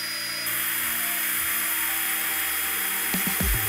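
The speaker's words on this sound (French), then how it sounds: "mélangez le tout à l'aide d'une turbine à peinture pendant 2 à 3 minutes" Paint mixing turbine stirring two-part varnish with catalyst, a steady whirring drone with a high whine, close and continuous, ending in a few knocks and bumps.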